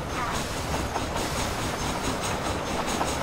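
Train riding ambience from the video game Red Dead Redemption: Undead Nightmare, a steady rumbling rail carriage with faint rhythmic clatter running continuously throughout.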